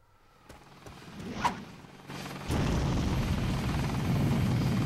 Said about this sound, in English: The first helicopter boss is really easy, though.